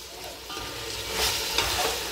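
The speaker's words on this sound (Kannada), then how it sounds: "ಇದು ಈ ಚಿಕನ್ ಈ ಒಗ್ಗರಣೆಲಿ 20 ನಿಮಿಷ ಆದರೂ ಚೆನ್ನಾಗಿ ಫ್ರೈ ಆಗಬೇಕು" Chicken fries in a spiced tempering over medium flame for dum biryani, a loud, continuous close sizzle with stirring scrapes throughout.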